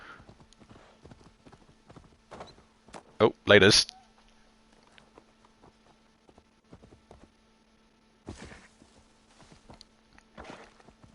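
Horse hooves clip-clop in a video game, a run of light, regular steps with a loud louder burst partway through, heard under two people chatting casually.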